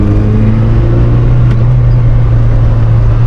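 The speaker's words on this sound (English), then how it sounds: "Test in the Samurai. Start in third gear at 30 and go." A Suzuki Samurai pulling away from 30 in third gear, its engine a loud, steady low drone with a faint rising tone and no voices, heard close from inside or beside the vehicle.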